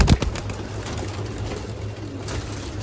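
Pigeons coo in a loft of many pigeon breeds, low soft cooing with a steady hum beneath, after a brief sharp flutter or knock at the start, close and moderately loud.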